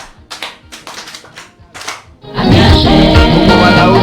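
A studio audience applauds for Lala during a Yoruba podcast; a few scattered hand taps give way to a loud, sustained burst of clapping that fills the second half.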